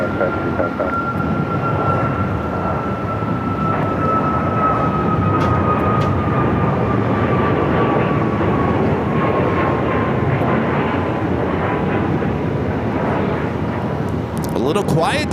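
An American airliner takes off from runway 7 left at Phoenix airport, its engines roaring loudly and continuously for the whole stretch with a slowly falling whine.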